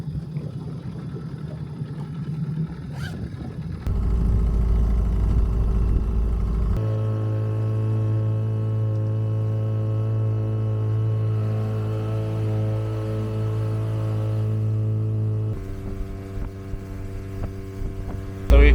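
A small boat's motor runs steadily while heading out to a crabbing spot in Maryland, a loud continuous droning hum that shifts pitch a few times as the throttle changes.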